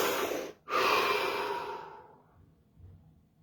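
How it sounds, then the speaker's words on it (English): A deep breath during guided relaxation: a close, slow inhale, a brief pause, then a long, soft sighing exhale that fades out. "Deep breath."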